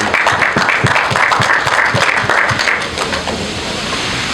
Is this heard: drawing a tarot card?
no